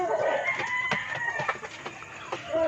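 Chickens, including a mother hen, clucking and calling close by, several short bursts over a farmyard background, with no talking.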